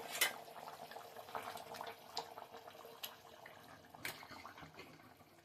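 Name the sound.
stuffed brinjal curry boiling in pot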